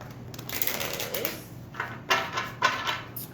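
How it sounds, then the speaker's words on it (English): Deck of tarot cards being shuffled by hand before a reading, with soft papery riffles and quick flutters in bursts, close and fairly quiet, in a setting with faint room noise. "I'm just kind of pre-shuffling the cards before I get deep into the shuffling of the cards."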